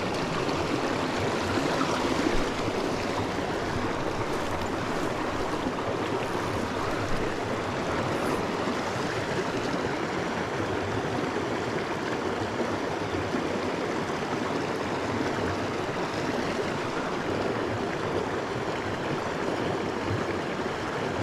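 The East Dart river on Dartmoor rushes and burbles over rocks close by, a continuous, full broadband wash of flowing water that stays steady for the whole stretch with no voices.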